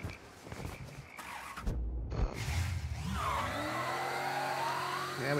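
A car in Mafia 3 pulls away. Its engine starts with rough shifting noise and a few knocks, then revs up into a steady, rising whine that holds close and loud.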